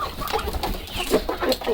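A flock of young chickens, including a grey rooster, cluck and murmur softly at close range in a yard, a busy overlapping chatter of short calls.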